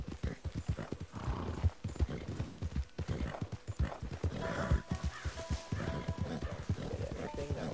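Steady clip-clop of horse hooves trotting at a quick, even rhythm in Red Dead Redemption 2, close by, with an occasional whinny and no voices.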